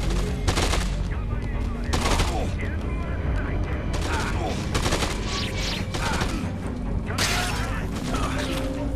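Repeated bursts of gunfire in the zombie video game Dead Rising 2, loud and dense shots in clusters spread across the scene, with mechanical clatter and game ambience between volleys.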